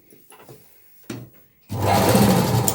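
A sewing machine stitches a small girl's petticoat, starting abruptly after a few quiet handling taps and a knock, then running loud and steady as a continuous whirring drone to the end.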